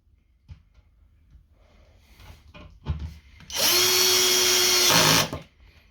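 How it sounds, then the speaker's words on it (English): An electric screwdriver tightens screws during a vertical installation of an EL123 unit, running in one loud steady whir of about two seconds after a few quieter clicks and handling knocks. "Make sure the screwdriver is not set with too high a torque."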